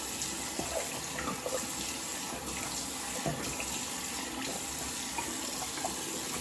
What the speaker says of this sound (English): Like I said, a warm water rinse.